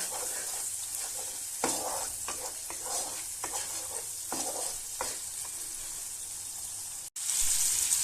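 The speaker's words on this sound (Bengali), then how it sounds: "সব কিছুকে আমি 2 থেকে 3 মিনিট ভালো করে কষিয়ে নিয়েছি" Cauliflower pieces with spices sizzle in a pan as a spoon stirs and scrapes, giving a steady soft frying hiss with irregular scraping strokes and no speech.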